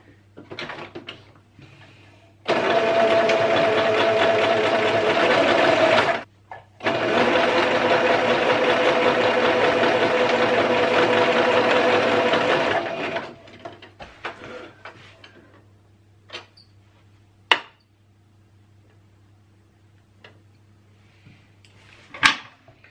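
A sewing machine stitches a bra at a table in two long, loud, steady runs of rapid stitching split by a short pause, followed by quieter handling clicks and taps.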